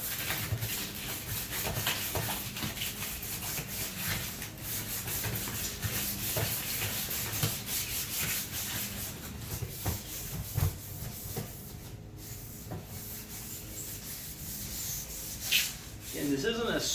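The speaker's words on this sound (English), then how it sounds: "this isn't a super aggressive scuffing. This is just enough to where paint will adhere." A surface scuffed by light hand sanding before painting, a continuous close rasping rub with steady back-and-forth strokes across the whole stretch.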